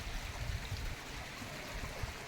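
Water pours steadily over rocky waterfalls in a constant broadband rush with a low rumble, moderately loud, with no voices.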